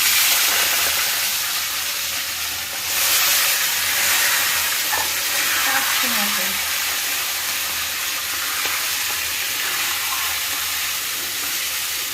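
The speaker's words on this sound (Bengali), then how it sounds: "এবার মটনটা দিয়ে দিচ্ছি তেলের উপর।" Raw mutton hitting hot oil in a pan while cooking curry, a loud steady hiss and sizzle that swells slightly partway through and continues alone.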